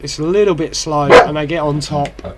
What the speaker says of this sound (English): you have to excuse my dog because he's noisy git